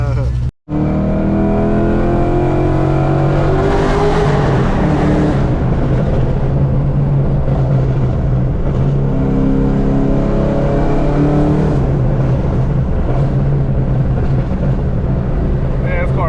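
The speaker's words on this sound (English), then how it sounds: "Man, this car is so loud." A loud G8 car engine revving at a car meet: a close, heavy, continuous drone that swells and climbs in pitch in a couple of places.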